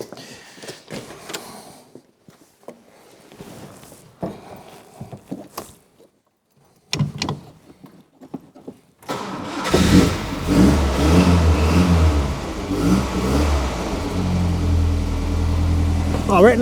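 Alfa Romeo 1900 Super engine cranking and catching, then running loud and close with rising revs, preceded by quiet clicks and brief talk.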